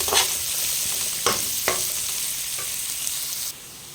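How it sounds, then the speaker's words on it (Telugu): Mustard seeds, peanuts and carrot frying in hot oil for a Telugu puffed-rice uggani: a steady close sizzle with a few sharp crackles and pops, stopping abruptly near the end, no voices. "ఆవాలు చెట్లిన వెంటనే పల్లీలు అలా వేగిన తర్వాత క్యారెట్ని అయితే వేద్దాము."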